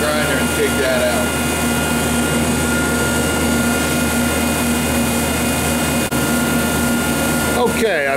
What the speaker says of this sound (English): I'm just gonna take the grinder and take that out.